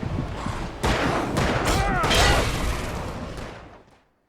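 Gunfire in the Alan Wake video game: a close, loud burst of several rapid shots lasting a couple of seconds, then a quick fade to silence.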